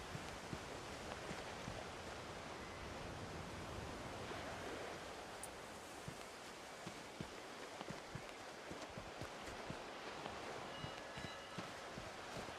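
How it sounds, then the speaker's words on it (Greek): Sea waves in a horror video game, a soft continuous wash of surf with gentle swells and faint scattered crackles, distant and steady. "Η θάλασσα είναι τέλεια τα κύματα."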